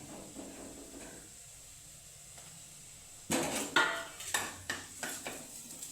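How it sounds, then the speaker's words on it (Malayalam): Garlic goes into onions sautéing in a pan, a soft background sizzle followed midway by a sudden burst of hissing and several sharp clinks and scrapes of a utensil against the pan. "വെളുത്തുള്ളി ഇട്ട് കൊടുക്കാം."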